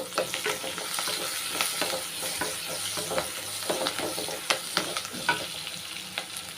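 Onion and sweet potato sizzle softly in a pan while a utensil stirs them, producing scattered scraping taps over a gentle frying hiss.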